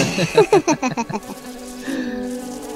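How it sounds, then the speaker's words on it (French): A bee buzzing close by in a series of loud, rhythmic passes, then settling into a steadier, softer drone as it hovers around. "cette putain d'abeille qui va me faire chier depuis tout à l'heure"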